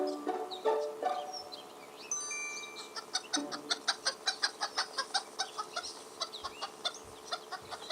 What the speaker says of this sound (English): there was a little red hen. Cluck, cluck, cluckety cluck.